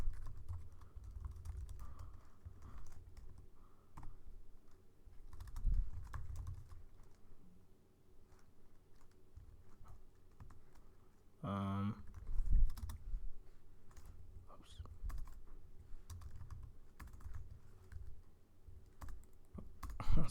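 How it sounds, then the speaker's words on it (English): Computer keyboard typing while coding a Java program, with irregular bursts of quiet clicks and short pauses between them, close and soft, with a brief louder sound near the middle. "My typing is not the best"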